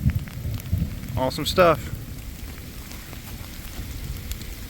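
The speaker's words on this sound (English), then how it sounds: "it is raining really hard right now" Heavy rain pours onto a road at night, a steady dense hiss throughout, with a person speaking briefly near the start.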